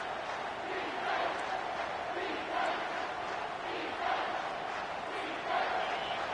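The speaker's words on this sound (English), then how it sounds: "3rd down, and this crowd is bringing down the house" A stadium crowd roars in a college football video game on third down, a continuous, moderately loud wall of cheering that swells in repeated waves.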